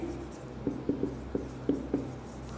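Chalk or marker tapping and scratching on a board during a thermodynamics lecture, a handful of short strokes in an irregular rhythm over a quiet, faint room background with no talking.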